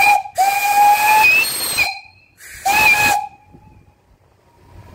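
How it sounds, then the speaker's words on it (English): A 2-inch solid brass steam whistle on a boiler blows two loud blasts, a longer one then a shorter one, each a shrill tone over rushing steam hiss, with quiet between them. "I'll blow the whistle a little bit."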